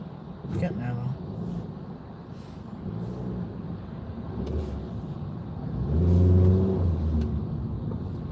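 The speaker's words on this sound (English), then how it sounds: "It's just all traffic all the time in New York." Cars move through stop-and-go New York traffic, with engines rumbling and one vehicle accelerating with a swelling roar near the end while someone talks.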